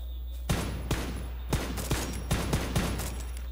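Video game gunfire crackles in quick uneven bursts: about a dozen sharp, close shots with short gaps between them, over a steady low hum.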